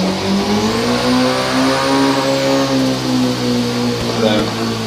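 Cammed car engine in Forza Horizon 3 holding a loud, steady high rev with a few faint pops toward the end, while a voice talks over it.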